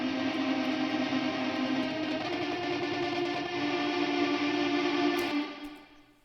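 Guitar verses from a mix of a song, a dense, sustained distorted guitar wall drenched in reverb that plays steadily, then fades out near the end.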